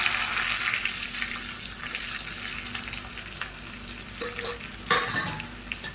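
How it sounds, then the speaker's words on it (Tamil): Finely chopped small onions (shallots) frying in oil for a Tamil chapati gravy, with a dense continuous sizzle and stirring scrapes, plus a brief clatter near the end. "இந்த சின்ன வெங்காயம் நல்லா வதங்கணும்"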